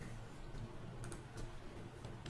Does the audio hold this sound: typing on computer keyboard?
yes